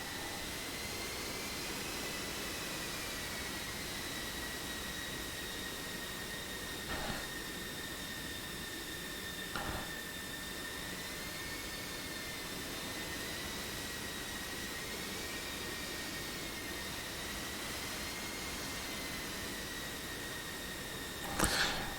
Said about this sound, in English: as we see the inSky F-15s beginning to make their way down to the runway